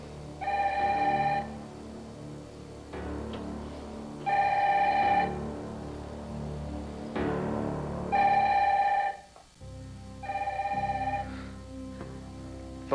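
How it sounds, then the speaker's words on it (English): A telephone rings in a drama scene, four repeated electronic trill bursts about every three seconds, moderately loud over a low background hum. "Phone's ringing."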